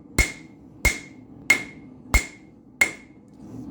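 A hammer strikes hot metal while a nail is forged, five sharp ringing blows at an even, unhurried pace, close and loud with no talk.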